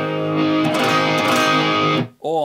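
Distorted electric guitar chords, a loud, close strummed chord ringing out with sustained overdriven harmonics, then cut short and followed by another chord that bends in pitch.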